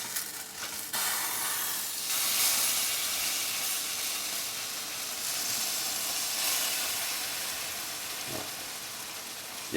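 Crêpe batter with Baileys sizzles and hisses steadily in a hot frying pan, a close, continuous broadband fry with no talking.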